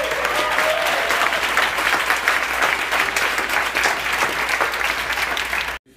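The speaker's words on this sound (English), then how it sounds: "So let's all just give ourselves a round of applause." A large audience at a vegan talk gives a sustained, dense round of applause that holds steady, then cuts off abruptly just before the end.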